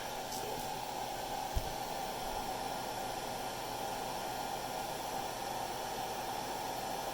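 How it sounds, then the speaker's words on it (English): A hair dryer running, powered from a Panasonic 36V scooter battery pack through a dongle board, giving a steady faint whooshing hiss that stays constant throughout, with a small click partway in. "My hairdryer is already on"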